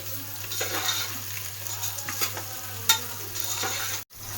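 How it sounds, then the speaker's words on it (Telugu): Soya chunks (meal maker) fry in hot oil in a pan, a soft continuous sizzle with occasional stirring scrapes and a low steady hum underneath, ending in a brief cut. "నూనెలో వేస్తే తొందరగా వేగిపోతుంది"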